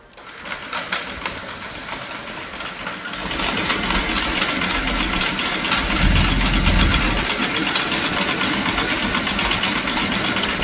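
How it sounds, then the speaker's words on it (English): Anchor windlass running on a Meridian 341 yacht with a lithium battery repower: a loud, steady mechanical whir and drone that grows stronger after a few seconds and keeps going without a break. "That windlass has never moved that fast before in its life."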